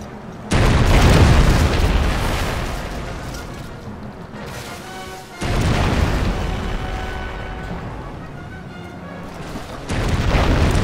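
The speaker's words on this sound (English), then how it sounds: "One of your ships is under fire." Naval cannon fire in the strategy game Anno 1404 Venice as ships come under attack, three heavy booming blasts with long rumbling decays, loud and spaced a few seconds apart, with no talk.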